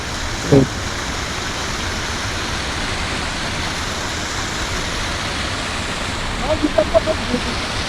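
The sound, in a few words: river flowing water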